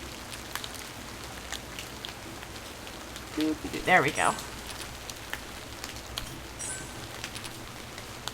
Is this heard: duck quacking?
no